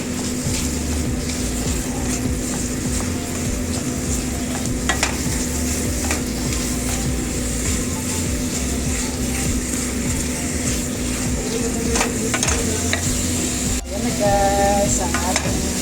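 Minced chicken fries with onion and garlic in a pan, a constant loud sizzle with occasional stirring scrapes and clinks of a utensil.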